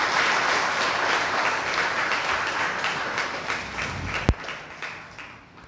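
An audience at a Gujarati book talk applauds to welcome a speaker, sustained dense clapping from a room full of listeners, with one sharp knock near the end before it tapers off.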